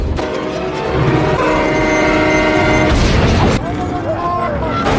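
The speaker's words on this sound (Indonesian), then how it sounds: "Tiba-tiba palang pintu tertutup dan kereta sebentar lagi akan melintas." In a film scene, a train passes a level crossing: a loud, sustained rumble with a blaring horn, then a heavy impact or crash near the end, and voices mixed in.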